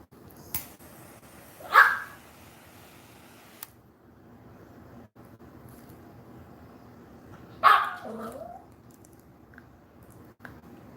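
A dog named Beans lets out two loud, sharp single barks several seconds apart indoors, with a quiet room between them.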